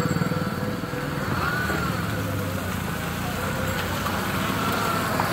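Road traffic passes a cyclist on a rain-wet road, heard as a continuous engine rumble and tyre noise, fairly close and steady, with faint voices now and then.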